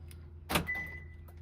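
A single sharp mechanical clunk of a Lexus LX470 door lock actuator locking, close by, followed by a faint fading whine and quiet background hum.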